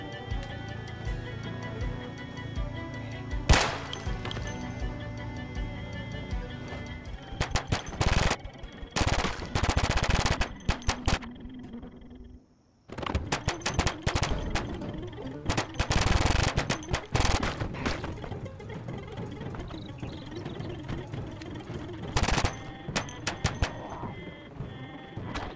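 Bursts of 12-gauge shotgun fire in the zombie survival game Project Zomboid, loud sharp blasts in irregular clusters over a steady background ambience, with a brief silent gap midway.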